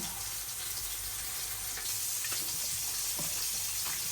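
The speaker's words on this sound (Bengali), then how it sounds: "ফুলকপি আলুগুলো কেটে নিলাম এগুলোকে একটু হালকা ভাজি করবো" Cut cauliflower and potato pieces fry lightly in oil in a home kitchen, making a continuous, even sizzle close by, with a few faint soft pops and stirring touches but no talking.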